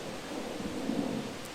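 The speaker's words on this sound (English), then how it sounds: "But it looks like there's a thunderstorm brewing." Thunder rumbles low and continuous from a gathering thunderstorm over hot springs among wooded hills, a steady broad roar with a slight swell near the middle, with no voices.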